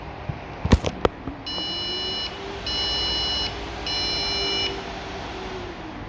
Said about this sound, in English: So I took out these sticks and the motherboard beeped.